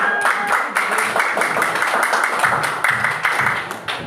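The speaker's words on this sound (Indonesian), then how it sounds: "Tepuk tangan" A group applauds during a classroom mentoring session, a steady loud patter of many hands clapping with some voices mixed in.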